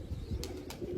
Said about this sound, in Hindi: ये आके बैठ रहे हैं कबूतर अभी सारे।